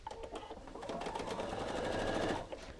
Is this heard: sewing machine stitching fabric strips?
yes